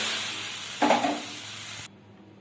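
Hot water poured into fried spices and vegetables for a bhetki fish curry, a loud broad hissing sizzle that surges as the water hits, then steadies and cuts off abruptly, leaving faint background.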